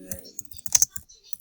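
Someone types on a computer keyboard in a short, quiet burst of a few scattered key clicks.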